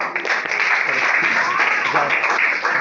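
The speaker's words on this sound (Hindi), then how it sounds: "चलिए ठीक है, तालियां इनके लिए भाई।" A seminar audience at an educational institute applauds with dense, steady clapping that lasts throughout, fairly loud and close.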